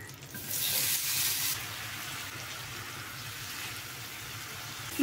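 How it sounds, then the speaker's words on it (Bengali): Prawns frying in a pan at a home kitchen stove, giving a steady hiss and sizzle that swells loudly for the first second or so and then settles into a constant crackle, with no talking. "আর এই যে প্রথমে আমি চিংড়ি মাছগুলো ভেজে নেব।"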